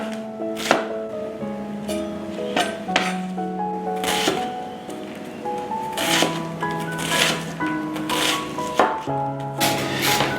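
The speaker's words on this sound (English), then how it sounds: "We're going to finely chop this." Knife finely chopping onion on a board, rapid irregular bursts of crisp taps close up, with some background tones and no talk.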